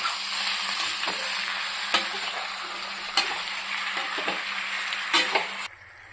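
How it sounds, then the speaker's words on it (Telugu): Chicken pieces stirred and tossed in a pan while cooking a homemade chicken gravy curry, giving a steady close sizzle with scraping stirs and occasional louder knocks of the spoon against the pan, ending abruptly. "ఒకసారి చికెన్ మొత్తం కలుపుకుందామండి."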